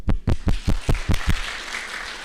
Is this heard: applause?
yes